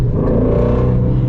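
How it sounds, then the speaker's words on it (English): A Shelby GT350 Heritage Edition's engine blips its revs during a manual rev-match downshift, a loud, close, sustained mechanical growl that rises and holds briefly. "it's so easy to rev match downshift with this car"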